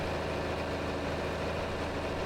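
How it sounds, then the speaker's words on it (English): A big, long tractor engine idles in Farming Simulator 25 with a steady, heavy low rumble, close and unchanging throughout, with no other sounds on top. "This is a big, long tractor."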